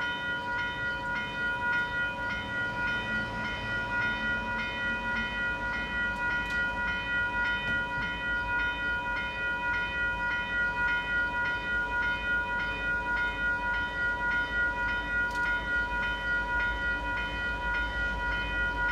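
CP 421, a Canadian Pacific freight train led by locomotive 7010 in heritage paint, draws near the Davenport Diamond on the North Toronto line, its steady rail rumble and wheel noise carrying a sustained ringing tone throughout.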